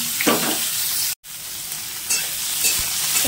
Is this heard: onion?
yes